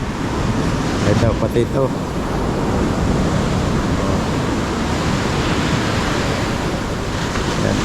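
Waves surge against a seawall at high tide, a steady, loud, broadband wash of surf with wind noise that fills the whole stretch, while someone speaks briefly over it near the start.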